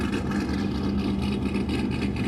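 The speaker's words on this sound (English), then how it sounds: "Hearing the roaring of motors" A drift car revs at Taupo Motorsport Park during D1NZ Drifting Championship qualifying, its engine giving a loud, continuous roar with a low, buzzing drone that holds steady throughout, with no voices over it.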